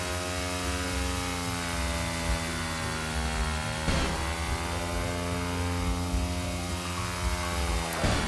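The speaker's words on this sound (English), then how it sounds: "I'm just holding full throttle the whole time." Steady full-throttle engine drone from a vehicle in the Screw Drivers game, a dense harmonic whine holding constant pitch with a brief dip near the middle, loud and continuous with no talk.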